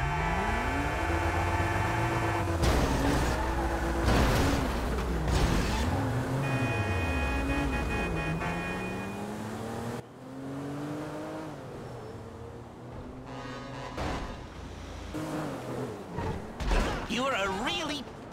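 A car driven during the GTA 5 jewel store casing mission: steady engine drone with rising and falling revs and pitch sweeps throughout, joined by a voice and occasional thumps.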